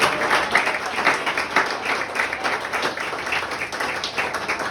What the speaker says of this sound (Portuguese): Aplauda Jesus essa noite.